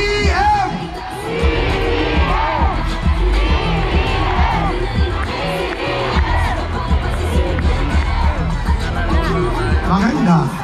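A large crowd at a political grand rally in General Trias, Cavite shouts, whoops and cheers continuously, a dense, loud roar of many voices with individual yells rising out of it throughout.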